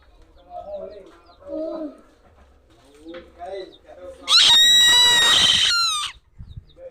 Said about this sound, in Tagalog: Ano kaya ang klaseng ibon to?